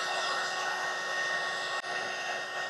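Heat gun blowing steadily to dry liquid on a 2021+ Bronco door handle overlay, a constant close whirring hiss of hot air with one brief dip.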